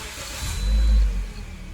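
A 2011 Toyota Corolla engine starts and settles into a steady low idle hum, fairly close and alone, with a brief swell in the middle.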